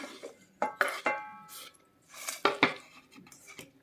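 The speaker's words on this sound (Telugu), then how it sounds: "కట్ చేసి పెట్టుకున్నాం కదా ఉల్లిపాయలు, టమాటాలు, అవన్నీ వేసేయాలన్నమాట" Chopped onions and tomatoes drop into a pan in several quick clattering bursts, mixed with sharp metallic clinks of a utensil against cookware, close and loud with short pauses between.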